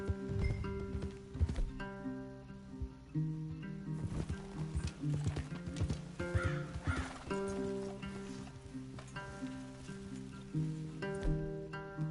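Horses in Red Dead Redemption 2 whinny and snort repeatedly, loud and close, over scattered clip-clop hoofbeats and faint outdoor ambience, with a distant crow calling.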